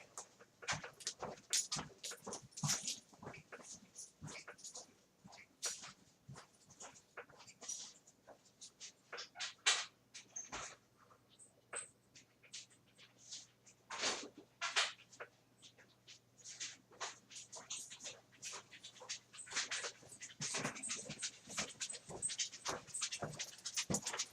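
A dog comes indoors, its panting mixed with pattering paws and scattered clicks and bumps close by over a quiet room hum, with no talking.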